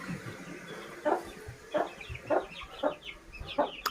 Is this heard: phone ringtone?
no